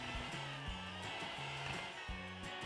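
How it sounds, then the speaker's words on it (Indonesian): An electric hand mixer kneads cookie dough for a snack-box recipe. It gives a steady, moderately loud motor whir with a rhythmic, pulsing change in pitch as the beaters work through the dough. No voices can be heard. "Sekarang ini dimixer sampai 1/2 kalis atau sampai menggumpal"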